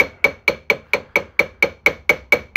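Steady, evenly spaced hammer taps ring out about four per second on a metal casting at the feeder sprue, each strike sharp and metallic with a brief ringing decay, close and alone.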